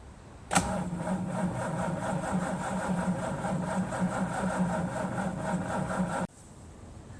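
A Jeep engine with a freshly charged battery cranking slowly and struggling to start, a loud steady labored churning that kicks in abruptly and runs for about six seconds before cutting off, with no talk.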